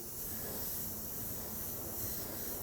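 Compressed-air spray gun applying opaque white paint, reduced 60% and run at about 15 psi, giving a steady, close, continuous airy hiss with no break from start to finish.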